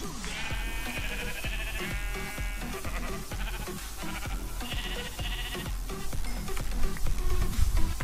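Sheep in the Minecraft video game bleat repeatedly in short wavering cries over busy game sound effects and rapid clicking hits, loud and continuous throughout.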